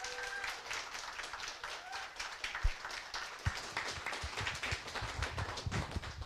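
An audience at a security conference talk claps together in a crowd, a steady patter of many hands with a few louder claps, going on throughout while a voice is faintly heard.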